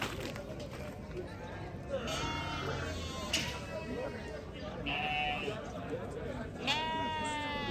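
Sheep and goats bleat repeatedly at a Moroccan livestock market, several calls rising over a busy crowd murmur while people talk nearby.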